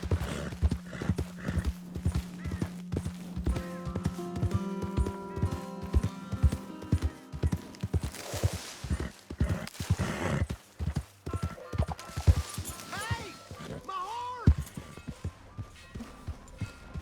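Horse hooves clip-clop steadily and close in Red Dead Redemption 2, with a neigh or whinny rising partway through and some background game sounds.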